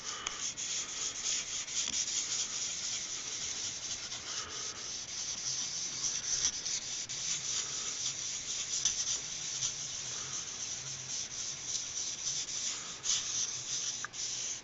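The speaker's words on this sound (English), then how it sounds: "just give it a light polish with some 3000 grit sandpaper" Steady, close hand-sanding strokes of 3000 grit sandpaper lightly polishing a shellac finish on a guitar neck and fingerboard edge, a continuous soft rubbing hiss with no talk.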